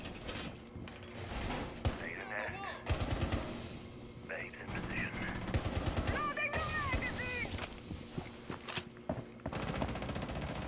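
Gunfire in the tactical shooter Rainbow Six Siege, with sharp bursts of automatic and single shots scattered through the round, mixed with in-game voice callouts, mechanical clatter and footsteps.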